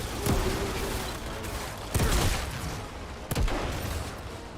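Heavy high-caliber rifle shots from the video game Outriders: three loud, booming reports spaced more than a second apart, each trailing off over a constant wash of game background noise.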